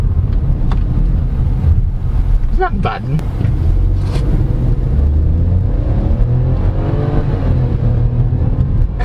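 A 2022 Chevrolet Tracker engine drones loudly and steadily, its pitch shifting as it downshifts, while someone talks briefly over it.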